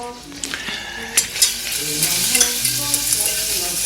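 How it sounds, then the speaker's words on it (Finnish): Finely chopped shallots cook gently in butter in a pan with a soft, continuous sizzle. Spoon or utensil clinks break in at intervals. "Me ei missään tapauksessa ruskisteta sipulia, vaan kuulotetaan se silleen, että se on läpikuultavaa."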